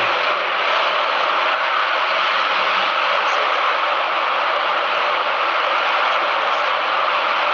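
A rocket engine fires on a ground test stand, a steady, unbroken roar of broadband noise holding constant loudness throughout.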